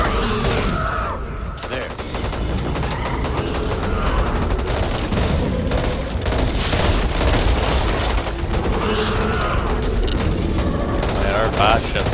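Gunfire in Back 4 Blood is aimed at a boss's weak spot, a dense continuous barrage of shots and booms mixed with game noise, with players talking over it.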